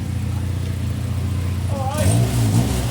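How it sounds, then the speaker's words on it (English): Honda racing car with a gearbox problem at Donington Park revs hard in the pits, a deep engine roar that rises and flutters toward the end, with crowd and voices in the background. "sounds like a drag racer now."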